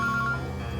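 A phone sounds with a bright electronic tone in short repeated pulses for the first part, then fades under a low background hum.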